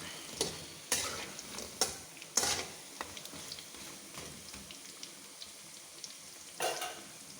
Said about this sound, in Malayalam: എണ്ണയ്ക്കകത്ത് ഇട്ടാൽ മതി ഇഞ്ചി വെളുത്തുള്ളി കറിവേപ്പില ഇത്രയും കൂടെ ചേർത്ത് ഫ്രൈ ചെയ്യണം